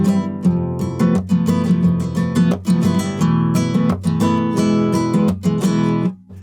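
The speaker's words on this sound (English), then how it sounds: "It's called either a new flamenco strum or a rumba flamenco strum" A nylon-string flamenco guitar strums a chord progression with a rumba flamenco pattern, sharp percussive down and up strokes in a driving rhythm, close and loud, played alone.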